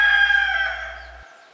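A rooster on a chicken farm gives a single loud, close crow that fades out over about a second.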